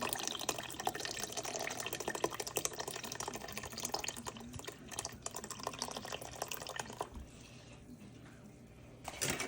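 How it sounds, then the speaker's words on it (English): Evaporated milk from a can pours steadily into a soup pot of potatoes covered with water, making a continuous liquid splashing and gurgling that runs for several seconds before tapering off near the end. "Now I'm going to go in with that entire can of evaporated milk."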